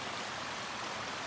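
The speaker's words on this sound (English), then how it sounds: "So the little river is just over here." A small river flows beside a campsite, its steady, close rushing water continuing without a break.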